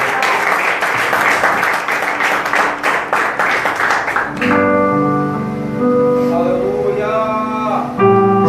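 Worshippers at a live church service burst into loud, dense applause for several seconds, then the clapping fades as sustained keyboard chords take over.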